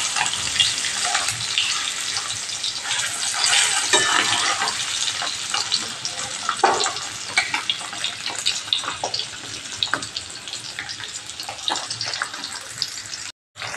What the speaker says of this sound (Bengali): কড়াইতে ডিমটা দিয়ে আমরা একটুখানি এপিট ওপিট করে নেড়ে নেব, নিয়ে হালকা ভেজে নেব ডিমগুলো